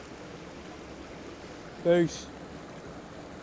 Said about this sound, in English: Focus on the waterfall